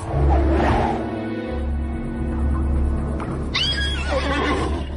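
Horses whinny and neigh loudly and close, with a high shrill call near the end over a busy rumbling background.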